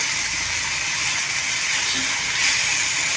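Fresh bombil fish frying in a pan, Maharashtra style: a steady, loud, broad sizzling hiss with no pauses, swelling slightly near the end, with no voices.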